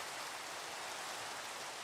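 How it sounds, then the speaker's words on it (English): Steady rain falls outdoors as an even, dense hiss of drops, continuous and moderately soft, with no voices. "it's raining"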